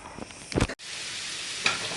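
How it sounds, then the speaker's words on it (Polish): Steady broadband sizzle of young potatoes frying golden in a pan, with a brief stirring clatter and a momentary cut before the hiss resumes. "ziemniaki smażymy na złoty kolor"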